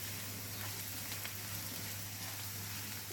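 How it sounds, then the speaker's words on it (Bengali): Panch phoron spices with chillies frying in hot oil, a faint, even crackling sizzle with tiny pops, steady and without talk. "পাঁচফোড়নটা একটু ভেজে নিচ্ছি"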